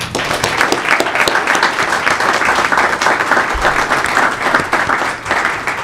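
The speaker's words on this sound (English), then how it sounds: "Let's give them a round of applause." A school board meeting audience applauds music educators, loud, dense clapping from many hands that holds steady throughout.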